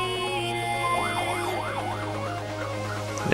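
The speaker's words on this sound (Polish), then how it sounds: "Karetki jarzą mi tutaj za oknem." Wailing ambulance sirens rise and fall repeatedly, heard from a moderate distance outside a window over a steady background hum, with no voices.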